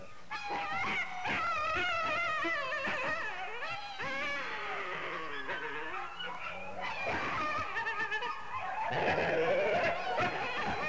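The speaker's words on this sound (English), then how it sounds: "Here, another one barks playfully with his keeper." A zoo coyote plays with its keeper, letting out a steady, lively stream of yips, whines and short barks up close, without any human speech.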